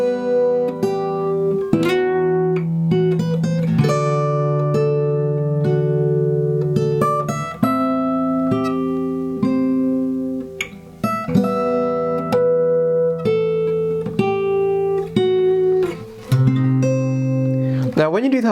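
Fingerstyle acoustic guitar plays the closing phrase of a theme from Lord of the Rings, with ringing plucked melody notes over sustained bass, continuous and close, with no talking.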